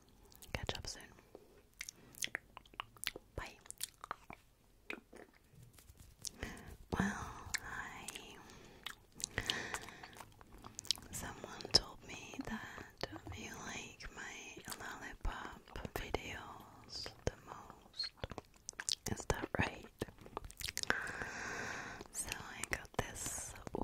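Soft, close ASMR mouth sounds of licking and sucking a lollipop, with wet clicks and smacks in an irregular stream. Faint whispery breath runs throughout, and no clear words are spoken.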